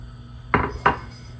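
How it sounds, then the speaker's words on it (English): Diced carrots tipped into a stew pot with oil land as two quick clattering thumps, close and fairly loud against a quiet kitchen background. "we're going to add our diced carrots"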